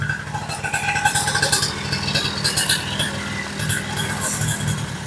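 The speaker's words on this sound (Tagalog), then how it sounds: "Pakinggan nyo yung tambutso niya." A Honda Dio scooter's exhaust idling and revving up close, a pulsing mid-pitched engine note with a few throttle blips rising and falling over a steady low rumble.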